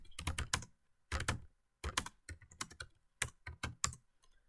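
Program code being typed on a computer keyboard during a Python dictionary lesson: quick bursts of close, crisp key clicks with short pauses between groups, quiet and without talk.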